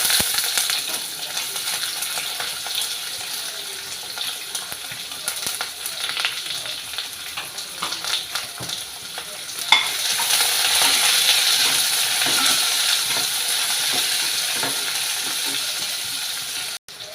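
Chopped onion pieces fry loudly and close in a hot pan, giving a steady, crackling sizzle that swells and grows more intense partway through.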